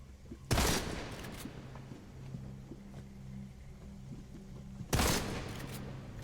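Two sharp, loud gunshots about four seconds apart, fired at a lever in the video game Deadfall Adventures, each a sudden blast fading over a low humming game ambience.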